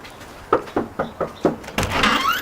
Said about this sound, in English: I'm gonna go knock the door